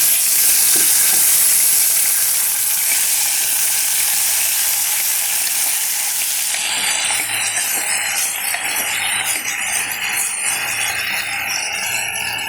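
Yam, onion and green chillies sizzle loudly in oil with fried mustard seeds, a dense continuous frying hiss that eases a little partway through, heard close up with no talking.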